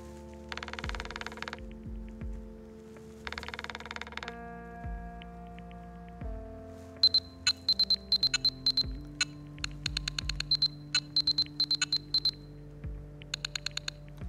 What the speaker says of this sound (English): That's a Morse code.